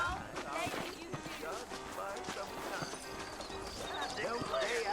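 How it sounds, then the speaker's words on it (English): Horse hooves clip-clop in Red Dead Redemption, the video game, with an intermittent whinny over busy game sound and people talking throughout. "Yes, I want to ride a horse."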